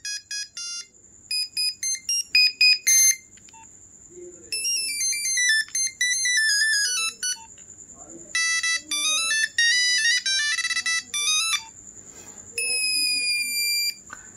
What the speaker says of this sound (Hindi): इसमें मोनोफोनिक रिंगटोन्स दी थी, जो कि मोस्ट पॉपुलर रिंगटोन्स एवर हैं नोकिया की